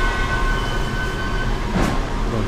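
A passenger train rumbles steadily at a station platform in Kyiv, a continuous low rolling drone with a faint whine and a brief swell of noise partway through, close by and without speech.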